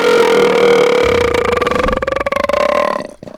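A man lets out one long, loud, drawn-out belch lasting about three seconds, rumbling and buzzing with a pitch that wavers before it trails off, heard up close with no talk over it.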